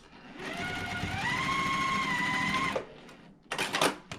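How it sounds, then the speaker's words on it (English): A sewing machine stitching about an inch through quilt block fabric pieces placed right sides together: one loud, steady whirring run that rises in speed, then stops, followed by a couple of handling clicks. "I'm just going to put these right sides together and stitch about 1 inch and stop"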